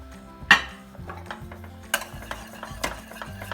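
Spoon or whisk scraping and clinking in a pot of thickening pastry cream, with irregular close metallic taps and knocks over a soft background.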